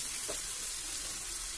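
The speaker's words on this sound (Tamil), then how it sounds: "4 பச்சை மிளகாய், அதையும் போட்டு நல்லா வதக்கிட்டே இருங்க" Garlic with Kashmiri and green chillies sautéing in oil for an egg gravy, a brief continuous close sizzle with a faint stir, no voices.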